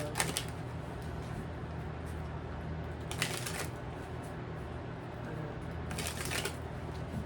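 Tarot cards riffle-shuffled three times in quick bursts, close by, over a steady low background hum.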